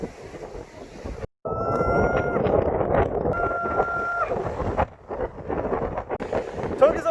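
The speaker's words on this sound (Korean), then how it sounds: "와 바람 진짜 바람" Strong wind on Jeju Island roars and buffets the microphone in loud, rough gusts, with a brief dropout, while a person talks over it.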